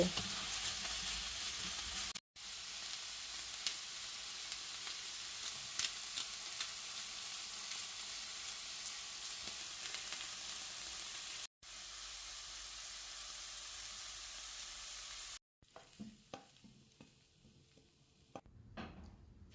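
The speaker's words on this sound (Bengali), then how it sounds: "একটি কড়াইতে তেল গরম করে তাতে ক্যাপসিকাম, পেঁয়াজ, ব্রোকলি, গাজর ও কর্ন দিয়ে সামান্য নুন ও ব্ল্যাক পেপার দিয়ে হালকা ভেজে তুলে রাখব" Capsicum, onion, broccoli, carrot and corn frying lightly in hot oil in a kadai, a continuous bright sizzle broken by brief cuts, fading to quieter scattered crackles and clatter at the end.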